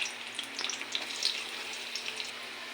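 Garlic fries in a pan, probably with onion already in it. A faint, even sizzle carries scattered tiny pops and crackles, and no one speaks.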